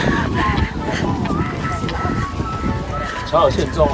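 Hooves clop in a rough, steady rhythm with a horse's breathy panting nearby, while people talk over it, on a coastal tour near Yehliu Geopark, Taiwan.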